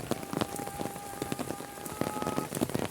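Steady rain pours down on a cloudy day in a village, a dense even patter of drops on surfaces with a few heavier splashes, close and continuous with no voices.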